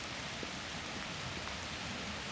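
Steady rain in the Dead Frontier 2 game, a dense continuous hiss of drops with even loudness and no other sounds.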